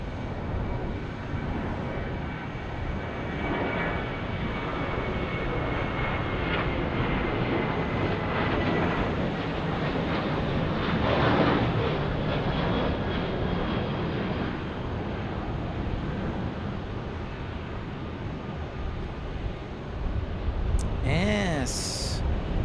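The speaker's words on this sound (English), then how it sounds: "There is our 757 crossing the runway." A Boeing 757 jet taxis and crosses the runway at an airport, producing a broad, continuous engine rumble and whine heard from a distance with steady wind noise. A brief rising tonal sweep comes near the end.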